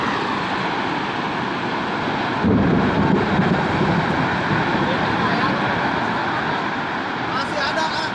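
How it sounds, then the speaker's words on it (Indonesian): Tornado winds roaring through Rancaekek, a loud steady rushing roar with buffeting gusts that swells midway, with people's voices faintly heard under it. "Angin puting beliung di Kahatek."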